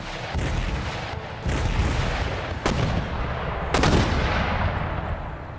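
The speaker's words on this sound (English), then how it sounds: "they're dropping shells right in the middle of our line" Mortar shells exploding in Empire Total War among massed line infantry, several heavy booming impacts spaced a second or so apart, loud and rumbling over a continuous battle din.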